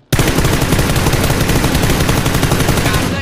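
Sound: gunfire in the video game PUBG

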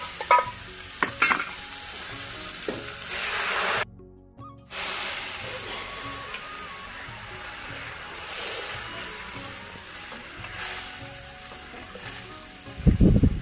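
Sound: lentils being tempered, sizzling in hot oil

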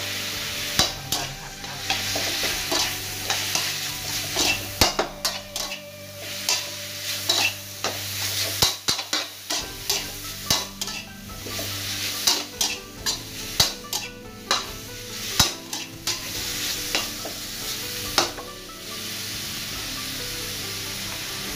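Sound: pork belly stir-frying with sliced lemongrass in a pan

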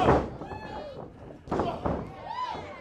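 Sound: wrestler's chops landing in wrestling match

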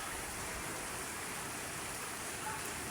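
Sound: heavy rain

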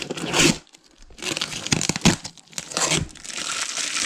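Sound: tape being torn off a parcel

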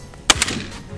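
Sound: air rifle pellet shot at pigeon

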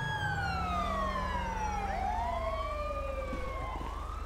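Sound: police siren in GTA San Andreas video game

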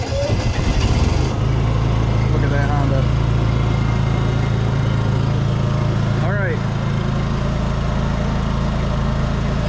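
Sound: portable generator starting up and running

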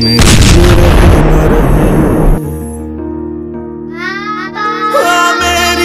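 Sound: bomb explosion

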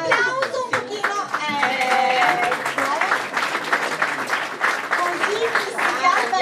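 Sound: audience applause for Sara Iannone

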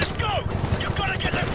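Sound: gunfire in video game Call of Duty 4 Remastered

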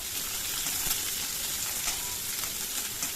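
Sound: onion frying in oil in a pan

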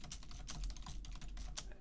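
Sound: typing on a computer keyboard

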